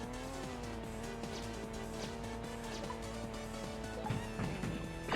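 A car racing on dirt in Mega Man Battle and Chase: a continuous engine whine with shifting pitch, and tyre skids and scrapes that grow louder toward the end.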